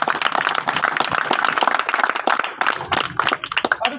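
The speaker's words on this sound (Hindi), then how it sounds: "उनके लिए भी तालियां बजाएं।" An audience at a small roadside meeting claps for parents and guardians, a dense, lively burst of many hands that keeps going before thinning slightly toward the end.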